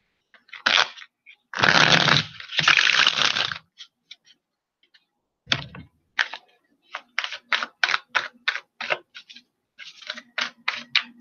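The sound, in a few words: oracle cards being shuffled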